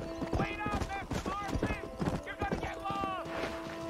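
A horse's hooves clip-clop at a steady trotting rhythm in the Western video game Red Dead Redemption, close and clear, with a voice talking over the footfalls.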